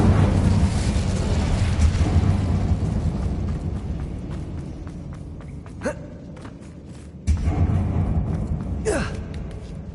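Incendio fire spell in Hogwarts Legacy: a sustained, loud roaring rush of flame that tapers gradually. Sharper bursts and whooshing sweeps break in later. A brief breathy vocal sound is mixed in.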